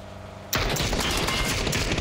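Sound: gunfire in the video game PUBG

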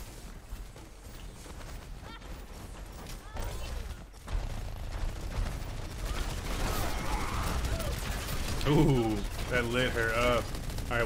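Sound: gunfire from the video game Overwatch

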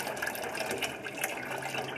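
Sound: stream of falling water pushing a ping pong ball

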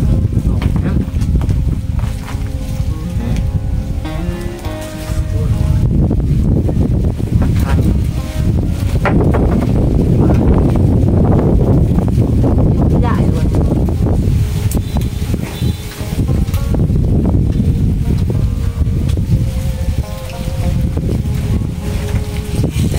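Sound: strong wind

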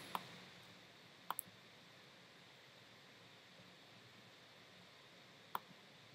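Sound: computer mouse click in Microsoft Word

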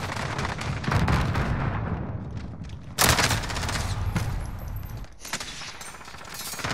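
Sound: gunfire from Odin rifle in a video game

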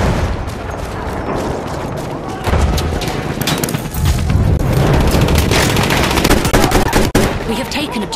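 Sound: machine gun fire in Battlefield 1, video game

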